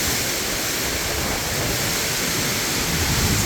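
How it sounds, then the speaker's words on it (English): A constant loud hiss and rush of heavy rain and wind from Hurricane Milton sweeps through the whole stretch with no breaks or voices. "This is the sound of Milton, and it's gotten really intense."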